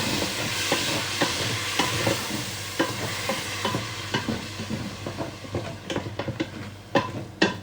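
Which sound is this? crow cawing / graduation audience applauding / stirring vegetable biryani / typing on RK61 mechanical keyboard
stirring vegetable biryani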